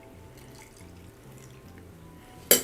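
A strawberry bourbon iced tea cocktail is strained from a shaker over ice, a soft steady trickle of liquid that ends in a sudden loud splash and clatter.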